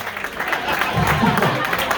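Audience at a comedy contest claps and cheers in a sustained, dense burst of applause, with a voice talking over it throughout.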